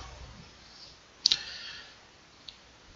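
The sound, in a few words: mouse click on a save button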